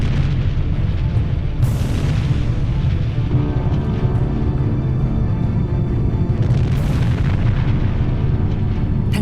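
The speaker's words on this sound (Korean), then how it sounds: "굉음과 함께 베수비오 화산이 폭발한 것이다." Mount Vesuvius erupting: a sustained, loud, rumbling roar with heavy low-end booms and a couple of sharper bursts surging through the whole stretch, with no voices.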